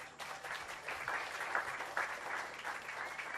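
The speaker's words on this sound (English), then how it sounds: "I want the people of Dominica to give themselves a round of applause." Audience at a literary festival in Dominica giving a round of applause, a steady, even wash of many hands clapping in a fairly distant, roomy space.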